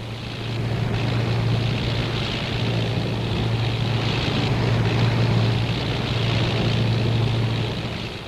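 An RAF training aircraft with a propeller engine comes in to land, its drone loud and sustained with a gentle swell and fade as it passes, with no voices.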